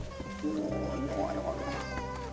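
A cat meows inside a pet carrier, giving drawn-out, wavering cries up close over a steady low hum.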